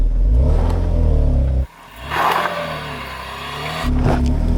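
An SUV engine revs hard while climbing a steep off-road slope. The loud, close roar briefly drops off, then swells again as the throttle is worked.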